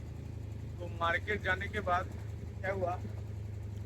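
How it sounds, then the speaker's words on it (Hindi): A generator runs steadily as a low constant hum through the clip, while a voice speaks briefly over it. "तो जनरेटर का साउंड है"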